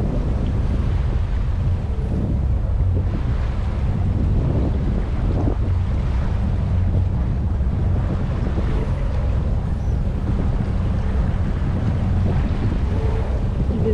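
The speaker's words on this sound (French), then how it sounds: "25 nœuds de vent." Strong 25-knot wind roars steadily over a sailing boat near Gibraltar, a loud, continuous rush of wind buffeting the microphone, with no one speaking.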